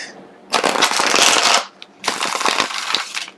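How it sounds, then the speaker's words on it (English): Two quick riffles of a Rider-Waite tarot deck being shuffled, a longer flurry followed by a short pause and a second burst of crisp, papery flapping, close up. "one last shuffle, we'll get into it"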